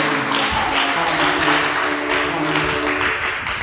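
Congregation applauding during a church service, a dense, steady wash of clapping that holds at an even loudness for the whole stretch, with faint sustained tones underneath.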